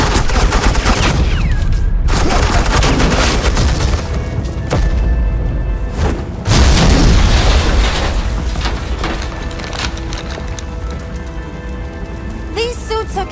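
Suppressing gunfire in the Batman: The Enemy Within video game: a loud, dense barrage of rapid shots and booms that rattles on almost without pause, briefly easing before flaring up again.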